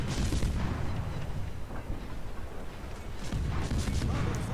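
A torpedo hit explodes in a naval battle video game, producing a dense, loud, rumbling boom that swells and rolls continuously over a few seconds with no one speaking.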